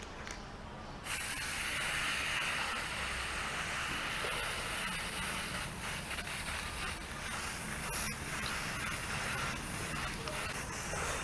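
Copper-colored spray paint hissing from an aerosol can outdoors in bright sun, a quiet steady spray starting after a brief pause and running continuously, with faint background noise.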